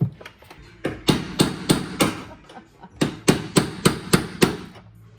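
Hammer blows strike locking pieces during engine removal on a Porsche Cayman, about a dozen loud, close metallic knocks in uneven bursts, with no talk.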